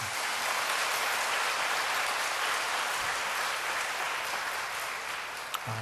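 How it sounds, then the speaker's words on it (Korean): A church congregation applauds together after a praise choir's song at a hymn festival, a dense steady wash of clapping that stays loud and even throughout before ending abruptly. "박수 한번 다시 한번 해주시죠"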